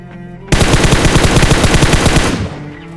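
M4 rifle fires in a video game: a loud, close burst of rapid automatic shots lasting about two seconds, then cutting off abruptly.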